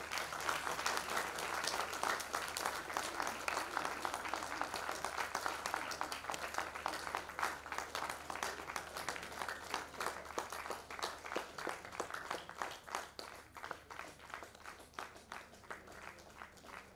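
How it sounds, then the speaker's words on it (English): An audience claps steadily at a musical night event, dense applause that holds for a long stretch and slowly thins out toward the end. "Let the claps please be going."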